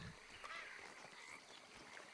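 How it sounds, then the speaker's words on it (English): A western toad croaks in Red Dead Redemption 2, a few faint, raspy calls over soft ambient wilderness sound, quiet and somewhat distant. "Another western toad."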